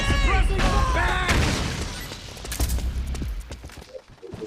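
Explosion and bursts of gunfire in Metal Gear Solid 4 ring out amid shouting voices, with sharp cracks and a heavy blast over a noisy battle din.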